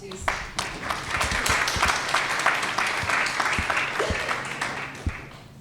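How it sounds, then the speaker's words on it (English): Audience applause at a memoir book launch, dense and steady clapping from a seated crowd lasting the whole stretch, with a few sharper claps standing out. "let's give her a round of applause"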